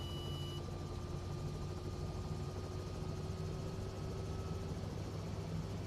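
Steady, even drone of an SU5 helicopter's rotor and turbine engine in Microsoft Flight Simulator 2024, a constant low whine and hum with no pauses.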